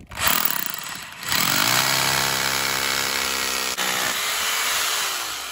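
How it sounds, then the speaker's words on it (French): A power drill bores into a concrete slab with a 10 mm bit, close and loud, with a whining motor drone that dips briefly, picks up again and runs steadily. "j'ai pris le forêt de 10, plus gros, et on perce pour mettre la cheville"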